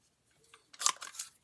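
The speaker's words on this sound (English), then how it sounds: "we have this really great punch called Banner's Pick-a-Punch. And we're going to banner each end" A handheld banner-shaped paper punch snips the end of a card stock strip, a single close, crisp crunch-and-click with a short faint rustle just before it.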